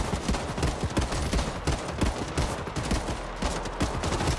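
Gunfire in the Hawked video game directed at the player's character: dense, rapid overlapping shots and bursts from several weapons, loud and continuous for a few seconds without a pause.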